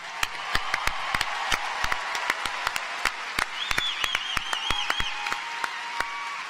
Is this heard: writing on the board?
no